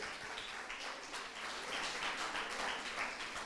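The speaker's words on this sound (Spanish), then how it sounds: "Alguien que aplauda el nombre del Señor" A church congregation clapping steadily, a dense wash of applause that swells slightly partway through, heard at a moderate distance without speech over it.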